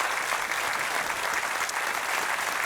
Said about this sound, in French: Vous pouvez applaudir Jean-Sébastien Lucioni, Johan Colonna et Joseph Franck